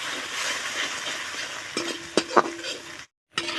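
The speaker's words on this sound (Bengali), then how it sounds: "ভেজে নেব ডিম।" A cracked duck egg fries in a pan with cut gourd, a continuous crackling sizzle broken by a few sharp scraping stirs and metal clinks before a short silence and a final burst.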